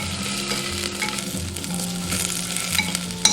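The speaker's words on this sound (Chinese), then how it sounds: "先下葱姜跟这些香料炒香" Scallion, ginger and whole spices stir-fried in a little oil in a clay pot, a steady close sizzle with scraping stir strokes throughout and a sharp clack near the end.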